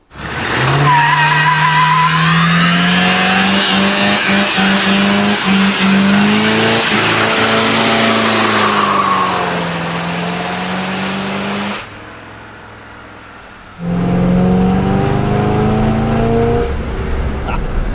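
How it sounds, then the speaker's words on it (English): A seized 1960s luxury car, revived after 30 years, does a long, loud burnout, the engine roaring and the tires squealing steadily. The noise cuts out briefly, then the squealing returns up close. "It'll do a huge burnout."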